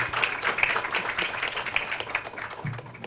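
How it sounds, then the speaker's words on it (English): Audience applause at a women's leadership summit, a dense wash of hand claps sustained for about three seconds at moderate level, with no talking. "So a big round of applause for the organizers."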